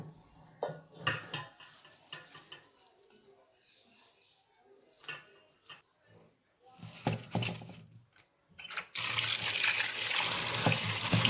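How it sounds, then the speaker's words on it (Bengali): Taro stolons being washed: intermittent splashing, clinking and handling sounds are heard at close range with talking in between, then a strong, steady rush of running tap water takes over for the final seconds. "জল দিয়ে ধৌত করা হচ্ছে।"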